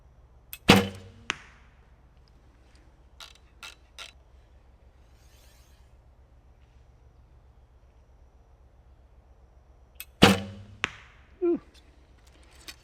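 Two sharp arrow releases from a Hoyt SR25 recurve bow with Formula Metrix limbs, each a loud snap with a short twang and rattle, about nine seconds apart amid faint handling clicks and quiet background.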